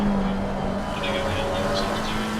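Race cars in a racing video game at the Kyalami circuit, heard from an onboard camera: an engine drones steadily and fairly loudly, with shifting pitch and a broad rushing noise, while a voice talks over it.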